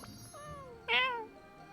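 A cat in the game Genshin Impact lets out two meows, a soft rising one followed by a louder, longer, bright meow, close and alone, without talk.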